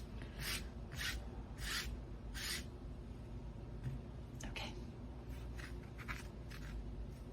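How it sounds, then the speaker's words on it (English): Tarot cards being shuffled, a series of soft papery riffles and rasps in bursts, the first three evenly spaced, then quicker scattered ones, close up over a steady low room hum. "I'm going to be shuffling on camera today."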